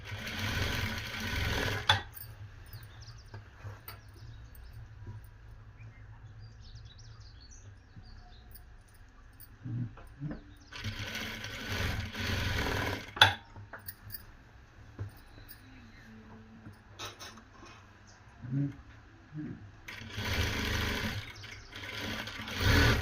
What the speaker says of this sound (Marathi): डबल शिलाई मारून घ्यायची शोल्डरला आणि पुढच्या बाजूला पण एक शिलाई मारून घ्यायची